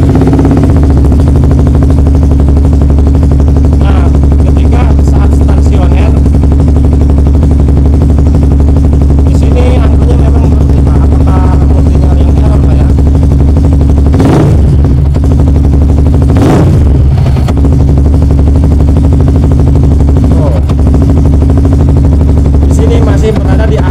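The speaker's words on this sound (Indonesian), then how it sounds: "Sekarang kita coba nyalakan dengan menggunakan kiprok Tiger yang sudah kita pasang." An R15 motorcycle engine fitted with a Tiger rectifier runs at a steady, loud idle close by, with a few sharp clattering bursts, while people talk over it.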